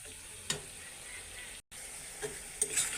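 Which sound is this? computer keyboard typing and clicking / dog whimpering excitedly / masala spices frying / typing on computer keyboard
masala spices frying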